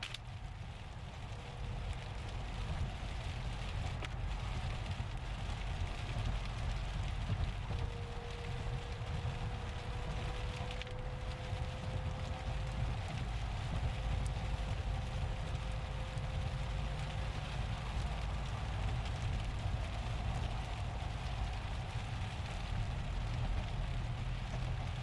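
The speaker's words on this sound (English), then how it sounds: "Kind of light rain now." Light rain patters steadily on a car driving through a storm in the southeastern hills of San Diego, a soft continuous wash over low road rumble, with a faint tone rising briefly midway.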